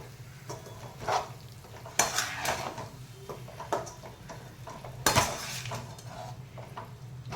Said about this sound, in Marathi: आता आपण हा मसाला चांगला भाजून देणार आहोत